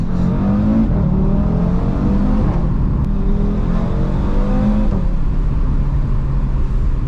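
An Audi RS3 engine revs loudly while accelerating in first gear, with rising pitch sweeps broken by brief shift pauses and a steady in-cabin rumble underneath.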